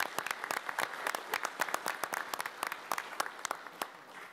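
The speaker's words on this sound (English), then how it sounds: "Would you please give them a round of applause?" Applause for police officers at a quarterly commission meeting, a modest room of people clapping with distinct, uneven individual claps, moderately close and steady for the whole stretch.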